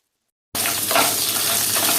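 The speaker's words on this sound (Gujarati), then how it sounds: "ડુંગળીને પણ સારી રીતે આપણે વઘારમાં સાંતળીએ" After a short silence, chopped onions hit hot oil with already-sautéed spices and sizzle loudly and steadily, a close, crackling hiss that continues to the end.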